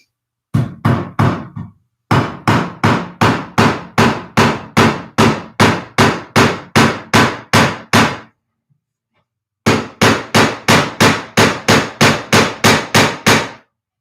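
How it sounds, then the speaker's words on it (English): Rapid, loud hammer blows ring out in quick regular bursts while working on a dresser, two long runs of strikes separated by a short pause, close and sharp. "I am going to hammer it, which may be a little bit loud"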